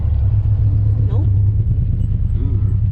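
A swapped 2.4L Ecotec four-cylinder in a Miata race car idles with a loud, uneven low rumble, its rough beat suggesting a misfire, while voices talk close by.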